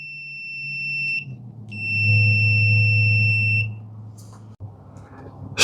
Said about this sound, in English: And when I touch them, hear the beep.